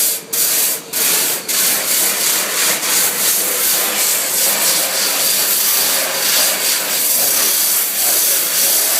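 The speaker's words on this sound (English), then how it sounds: "So I'm going to sand this and make a little pattern where the cloth is going to be able to adhere to the board." A stand-up paddle board is sanded to rough up its surface for fiberglass cloth, with a few quick scratchy strokes at the start that settle into continuous close, loud abrasive rubbing.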